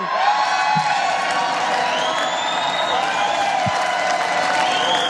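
A convention crowd at J.D. Vance's RNC acceptance speech applauds and cheers, a steady wash of clapping with whoops and voices layered on top, heard at a constant loudness throughout.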